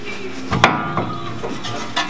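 A new brake pad being tapped into the caliper of a Toyota Tundra's front disc brake, a few light metallic knocks spaced about half a second apart, close by, with no voices.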